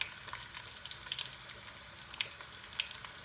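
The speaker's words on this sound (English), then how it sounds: "Next, I'm going to add the onions into that mixture of oil." Onions frying in oil for spicy Trinidadian rice and fish, a steady soft sizzle with crackling pops, faint and continuous with no talk.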